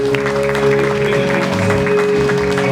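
Clapping at a royal gala praise moment, sustained applause over a loud steady musical backing with held tones and a low bass line.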